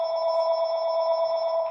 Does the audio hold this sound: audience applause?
no